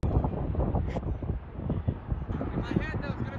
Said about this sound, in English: This is truly the windiest storm